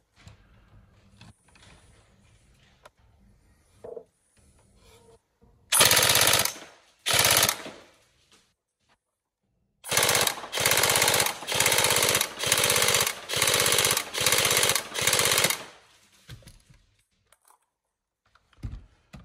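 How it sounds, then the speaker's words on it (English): A Tokyo Marui SCAR-H next-gen airsoft electric gun with a high-speed motor and Prometheus gears fires several rapid full-auto bursts, sharp mechanical buzzing strings separated by short pauses and quieter handling clicks. "the combination of the high-speed motor and the Prometheus gears are obviously quite fast, quite nippy"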